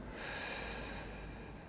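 One slow, deep breath drawn through the nostrils and let out through the mouth in a yoga-style breathing exercise, heard as a steady, close, airy rush without pauses.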